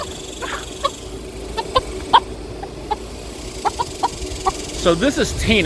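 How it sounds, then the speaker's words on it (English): Short clucks from a black sex-linked chicken repeat irregularly against a steady low background hum, with a busier burst of clucking near the end. "a black sex-linked chicken"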